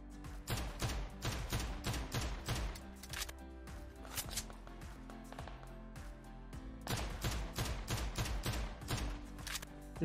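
Rapid bursts of automatic gunfire in the mobile shooter PUBG Mobile, sharp repeated cracks in quick volleys with brief lulls between, loud and close over a faint game background.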